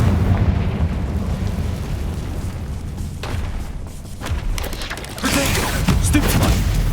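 Spell fire from a Confringo fire spell in the Hogwarts Legacy video game bursts in a series of booming explosions and crackling blasts. The rumble is dense and loud, with sharper bursts near the end.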